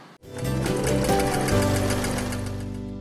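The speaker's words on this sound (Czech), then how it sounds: "Sešijeme jednu a druhou hranu overlockem." An overlock sewing machine stitches the edges of fabric for a neck warmer. Its motor runs steadily at close range with a rapid, even stitching chatter for a few seconds.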